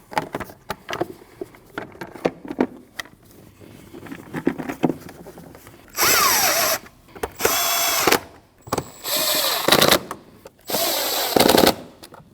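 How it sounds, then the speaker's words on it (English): A power tool tightening a radiator hose clamp on a 2013-2019 Ford Escape 1.5L, four loud bursts of rapid ratcheting whir, each about a second long with short pauses between, following quieter clicks and handling noise. "Now tighten the clamp."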